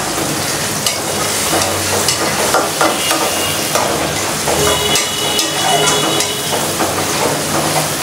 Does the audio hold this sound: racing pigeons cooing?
no